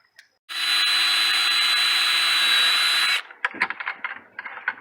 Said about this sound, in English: There's the hole saw and the pilot drill that goes with it.